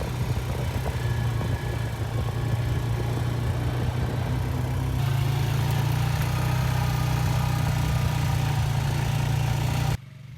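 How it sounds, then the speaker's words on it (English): A Honda four-wheeler ATV engine runs steadily with a constant low hum and a strong droning tone, growing slightly louder midway, then cutting off abruptly near the end; no talk. "So this is my Honda four-wheeler."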